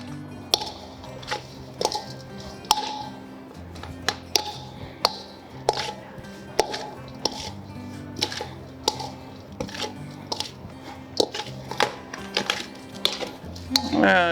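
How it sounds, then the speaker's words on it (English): Food being tossed and coated in a bowl for a Hawaiian pūpū platter, with repeated sharp clinks and taps of a utensil against the bowl at an uneven rhythm, close by under a soft background murmur. "Mix it all up, just make sure everything's well coated."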